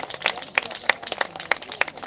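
Sparse applause from a small audience at a cultural exchange event, a few hands clapping in an uneven rhythm of distinct, fairly close claps.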